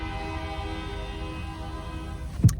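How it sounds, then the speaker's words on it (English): A passing train rumbles steadily with a sustained horn blast, ending in a sharp clank or thump near the close; no voices are heard. "that train never lets me be great at all"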